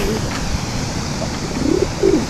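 Pigeons coo softly a couple of times near the end, low throaty calls over steady outdoor background noise.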